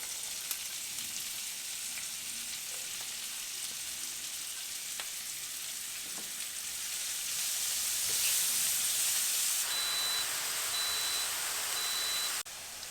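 Onion sizzling as it fries in a pan for chana masala, a steady hiss that swells louder midway with faint intermittent beeps in the background, close, no speech.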